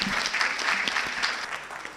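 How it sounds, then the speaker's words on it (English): Indoor audience at a women's digital-transformation business talk breaking into applause, a brief dense burst of many hands clapping close by. "Let's give a round of applause to her for that."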